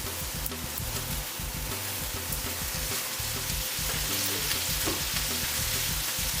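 Brussels sprouts fry in olive oil in a pan, giving a steady, dense sizzle with occasional crackles and stirring scrapes throughout, close and without voices.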